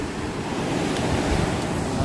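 Ocean waves seen from a cruise ship: a continuous loud broadband rush of surf mixed with wind buffeting the microphone, steady for the whole stretch.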